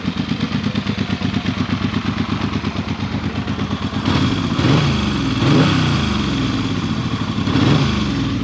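A Yamaha XS750 motorcycle engine running after its carburetors were cleaned, idling with a steady close putter, then revved in several rising bursts that settle back, loud and alone.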